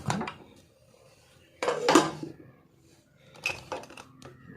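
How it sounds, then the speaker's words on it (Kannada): A pressure cooker that has just cooked broken wheat opened by hand, three bursts of metallic clatter and clinks from the lid and weight, close with quiet gaps between. "ಕುಕ್ಕರ್ ಪೂರ ಚಪ್ಪೆ ಆಯ್ತುಂಡು ಇದು ಓಪನ್ ಮಾಡಬೇಕು"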